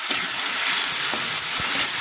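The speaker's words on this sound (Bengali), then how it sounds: "মশলাটা ভালো করে কষিয়ে নেব" Turmeric, green chilli and chili powder sizzle steadily in hot oil as they are stir-fried for a boal fish curry with coriander leaves, a close, continuous hiss with a few soft spatula scrapes.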